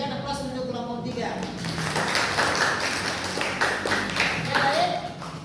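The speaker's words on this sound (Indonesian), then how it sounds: "Sekali lagi berikan aplaus untuk kelompok 3." Applause from a classroom of students for a presenting group, a steady patter of many hands clapping at moderate loudness with a voice talking over it.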